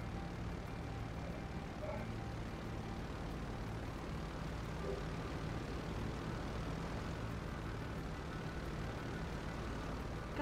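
A slow-flying airplane in a video game gives a steady, droning engine hum that stays level throughout, under faint background voices.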